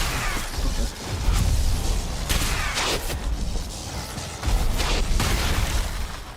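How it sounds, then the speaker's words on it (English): Lava bombs or meteors exploding in the Ashlands area of a video game, a dense run of booming bursts and crackling blasts that swell and fade repeatedly over a constant low rumble. "there's lava bombs or meteors or I don't know what to call them"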